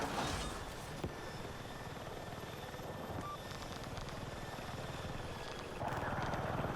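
An attack helicopter in the video game Battlefield 6 gives a steady, fairly faint rotor thrum with a rhythmic chopping beat. Brief clicks and swells from other game sounds come and go.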